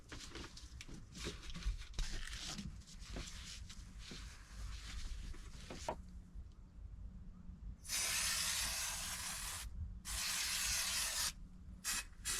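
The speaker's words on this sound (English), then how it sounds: "probably hold this up and spray little bits, let it kind of air dry a little bit" Spray paint hissing from an aerosol can inside a Transit Custom camper van under construction, with two long, loud, steady bursts near the end after quieter scraping and rustling.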